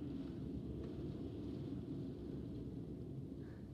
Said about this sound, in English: Can you hear that? That's the wind.